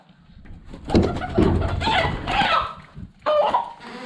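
A village chicken of a local highland breed is caught outdoors during Tet, letting out loud, close clucks and squawks in agitated bursts with brief pauses, and no one speaks.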